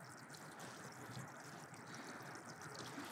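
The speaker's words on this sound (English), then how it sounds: "What I do know is I really like the sound of flowing water here." Water trickles steadily into a chateau fountain, a faint, continuous wash of flowing sound, distant and unbroken, with no voices.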